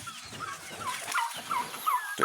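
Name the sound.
chickens clucking on a farm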